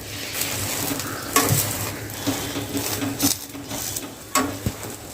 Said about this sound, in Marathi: आपल्याला लगेच पलटी करून घ्यायचं आहे आणि त्या बाजून पण चांगला आपल्याला त्याला फ्राय करायचं आहे